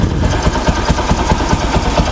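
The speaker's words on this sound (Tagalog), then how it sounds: "Pero yung makina sobrang tahimik na." A Rouser 135 motorcycle engine idles nearby with its airbox removed, a steady quiet pulsing putter with even rapid firing beats and no voices.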